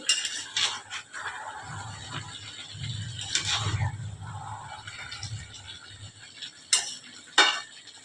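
A cooking pot holding Malabar spinach with a katla fish head gets its lid set on, giving a couple of short metallic clanks near the end over soft kitchen rattling and low background rumble.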